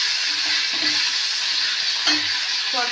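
Tomatoes frying in a pan with ginger, a steady loud sizzle throughout, with a few soft scrapes and clinks of stirring and no talking.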